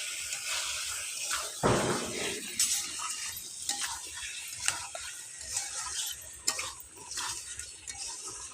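A ladle stirs khichuri with turmeric in a pot for Saraswati Puja, giving a steady scraping and rattling with a few sharper clinks against the metal. It is moderately close and there is no speech.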